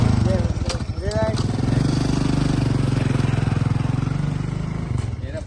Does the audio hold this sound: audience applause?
no